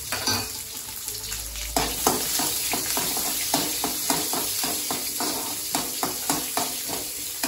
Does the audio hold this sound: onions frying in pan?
yes